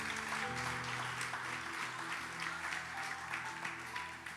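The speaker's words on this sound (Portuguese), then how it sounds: "Vamos aplaudir a palavra de Deus nessa manhã." Church congregation applauding during an anniversary service, a dense sustained wash of many hands clapping together, heard fairly close, with a held musical tone and a few voices beneath it.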